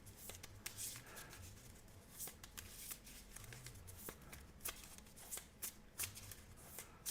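A deck of cards being shuffled during a Marvel Champions card game, with repeated quick riffling bursts and soft flicks at close range, low in level and without talk.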